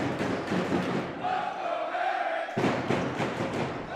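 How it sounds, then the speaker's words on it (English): A basketball crowd of fans cheers and roars at a varsity-versus-alumni game, loud and continuous, with a sustained swelling shout in the middle before the noise breaks back into scattered cheering. "As the Crazies cheer on Dominic Herring"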